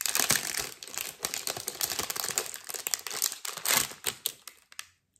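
A silver stainless half-bangle bracelet unwrapped from its packaging up close, a steady stream of crackling, crinkling plastic and paper with sharp snaps, fading out at the end.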